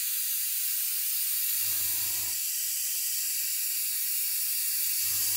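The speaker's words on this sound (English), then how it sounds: "they will come back like this far and they will spray like this" Airbrush sprays paint in two short bursts of soft, close hiss, each under a second, over a steady background of broadband noise.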